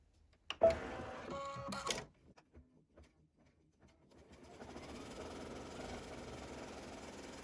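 An embroidery machine runs an applique placement stitch for a quilt block, a steady mechanical whirring and rapid needle patter that begins after a few scattered clicks and handling knocks, continuing alone at moderate, close level.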